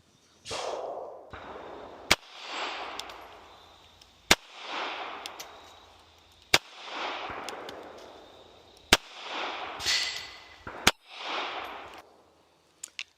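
Five close, sharp pistol shots from a .380 ACP S&W Bodyguard 2.0 fired at 5 yards, each loud crack followed by a ringing outdoor decay, spaced about two seconds apart with short clicks between them.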